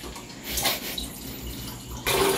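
Water runs and splashes steadily into a pot for a couple of seconds, growing louder and fuller toward the end.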